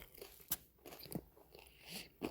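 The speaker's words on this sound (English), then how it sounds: "Y'all bear with me, I'm munching." Crunchy food being bitten and chewed close to the microphone, with several sharp crunches spaced irregularly across a couple of seconds and no talking.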